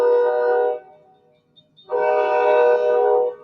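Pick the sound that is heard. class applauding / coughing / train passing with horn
train passing with horn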